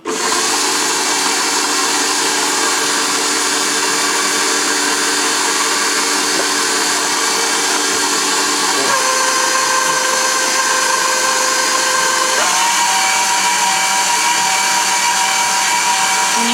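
An electric mixer whirs steadily through banana bread batter as flour is worked in. The motor hums loud and continuous, and its pitch drops in a couple of clear steps as the speed changes or the batter thickens.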